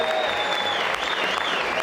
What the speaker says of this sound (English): Let's have a rapturous round of applause for Mr. Alan Blair.